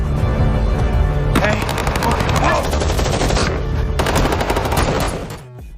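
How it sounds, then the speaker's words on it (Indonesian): Rapid bursts of automatic gunfire crackle loudly and continuously, with sharp cracks and dense clatter, dropping off abruptly near the end. "tiba-tiba terdengar suara tembakan"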